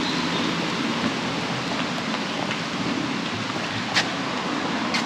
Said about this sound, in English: We were just talking about the rain, and it started raining.